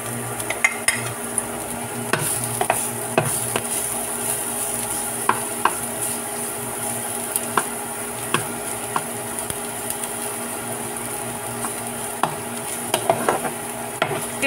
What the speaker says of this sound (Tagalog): pag mainit, lagay natin ang ating bawang